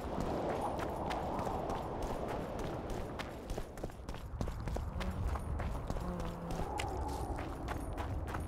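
The horse Roach gallops in a video game, a steady rapid clip-clop of hooves pounding close and continuous over a rustling ambient bed.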